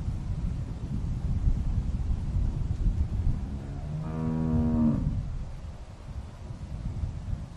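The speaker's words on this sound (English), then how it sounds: "How's the cow?" A cow gives a single low moo lasting about a second, heard over steady outdoor wind rumble.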